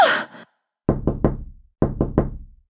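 A door in a Minecraft animation is knocked twice in sets of three quick, loud, hollow raps separated by a short pause, with a brief breathy vocal sound just before.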